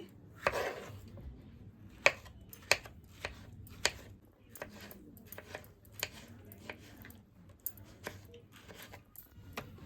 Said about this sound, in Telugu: లోపల ఉన్న గింజలు తీసేసుకొని మనం ఇప్పుడు కట్ చేసుకుందాము